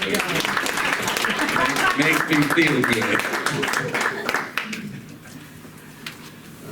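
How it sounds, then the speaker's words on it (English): Audience at a Fort Worth lounge giving a round of applause, steady dense clapping that tapers off as a voice speaks over the end. "Y'all give me a round of applause"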